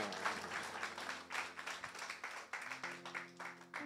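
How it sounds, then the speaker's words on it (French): Faint applause from a small group at a church service, uneven clapping rising and falling in bursts under a low background hum. "On l'applaudit"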